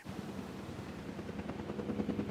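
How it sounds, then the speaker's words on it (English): A helicopter in the Jurassic World Evolution 2 dinosaur park game whirs with a steady low rotor thump, sustained and fairly quiet, with no talking. "I like the fact that the helicopters now have different noise effects"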